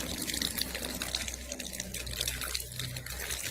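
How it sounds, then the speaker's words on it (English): A steady stream of water pours from a man's mouth, making a continuous splashing rush that stays even and moderately close for a few seconds, with no talk. "the man begins pouring a steady stream of water from his mouth"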